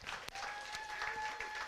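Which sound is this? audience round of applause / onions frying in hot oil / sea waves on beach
audience round of applause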